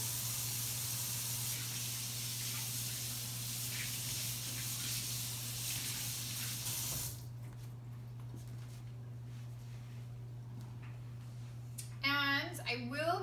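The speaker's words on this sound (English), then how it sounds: "So I will be starting my hand washing process" Hot water from a tap runs for hand washing before kneading biscuit dough, a steady rushing spray for about seven seconds that then cuts off, leaving quiet before a brief voice near the end.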